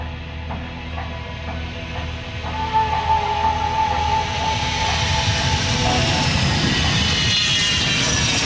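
Patrulla Águila aerobatic team jets roll for takeoff at the 2005 Royal International Air Tattoo air show. Their roar swells from a whining rumble into a loud, sustained, hissing blast heard from the crowd line.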